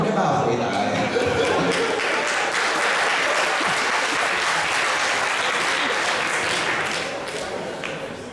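A lecture audience at Penghu University of Science and Technology breaks into sustained, full applause, many hands clapping densely and evenly. Faint voices murmur underneath before the clapping slowly tapers near the end.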